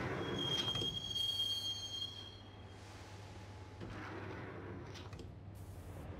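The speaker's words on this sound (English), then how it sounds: "the train doors had already shut behind me, and I was in for the ride" A train in the Max Payne game rolls along the tracks with a steady low rumble and a thin metallic squeal of wheels at the start, then settles into a quieter continuous drone with faint clanks.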